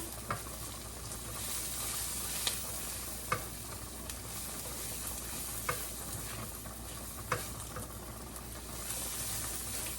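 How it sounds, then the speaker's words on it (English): Onions fry with a steady sizzle in a pan, stirred occasionally, with a few sharp scrapes and taps of the utensil standing out over the continuous hiss. "I'm going to mix these onions one last time"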